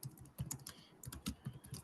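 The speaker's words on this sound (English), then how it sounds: "I will just type them so that you can see" Quick, irregular clicks of keys on a computer keyboard, typed nearby at a soft level with brief pauses between bursts of strokes and no talking.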